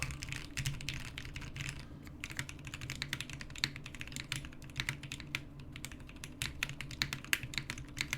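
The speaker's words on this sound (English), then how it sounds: "Kind of a weird way to describe a sound of a keyboard, but I'm telling you, man, creamy" Mechanical keyboard, a Kepler with a POM plate and Zealios v2 switches, typed on at a quick, uneven pace: a close, dense run of soft, rounded key clacks with occasional louder strokes, and no voices.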